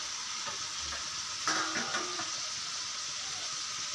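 Bitter gourd fries in a pan with a constant soft sizzle, broken by a few brief stirring scrapes near the middle, with no voices.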